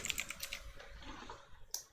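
Quick bursts of typing on a computer keyboard during an online Magic: The Gathering Online match, a few soft clicks alone with no voice.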